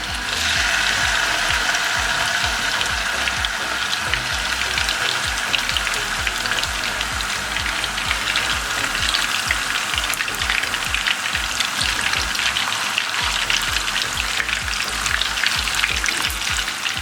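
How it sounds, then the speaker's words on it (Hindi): Beef seekh kebabs shallow-fry in oil in a pan, giving a continuous dense crackling sizzle that holds steady and close for the whole stretch, with no voices. "अब कबाबों को फ्राई करना शुरू करते हैं।"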